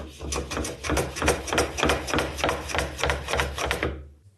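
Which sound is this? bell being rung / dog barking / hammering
hammering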